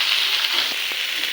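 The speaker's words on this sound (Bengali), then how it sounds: "ফুলকপিটাও আমি ভেজে নেব।" Cauliflower fries in a little oil in a wok, a brief steady close sizzle with a faint soft clink partway through.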